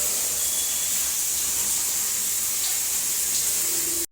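A shower head sprays water in a new residence bathroom during a leak test, a loud, steady hissing rush close by that cuts off abruptly at the end.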